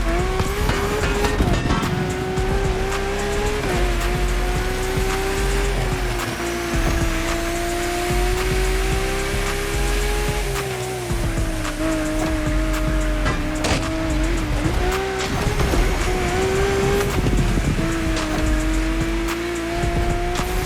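Powerful drift car in The Crew Motorfest, its engine roaring loud and continuous as it accelerates, pitch wavering with throttle, while tyres squeal and skid throughout, with no talk.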